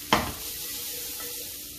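An onion hits a hot pan with a sudden loud hiss that quickly settles into a steady, softer sizzle while ginger seafood cooks.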